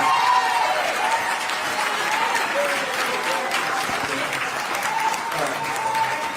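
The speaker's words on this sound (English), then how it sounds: "we want to ask everybody to give a round of applause to Mayor Lightfoot for the hard" A crowd applauds steadily for several seconds at a public meeting on the Village of Dolton's finances, dense clapping with some cheering and voices mixed in, fairly loud and close.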